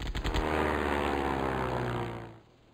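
Enemy propeller plane in the video game Sid Meier's Ace Patrol, a loud droning engine roar that holds steady for about two seconds, then fades away as it passes.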